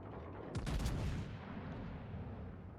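A tank gun fires once in a video game, the Georgia tank, giving a single loud, booming shot followed by a long rumbling decay and faint background noise.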